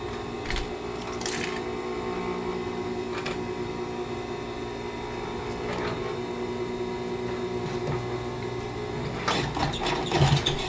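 A sewing machine runs steadily while stitching a grommet-style curtain, giving a continuous even hum with a few sharper clicks and taps on top.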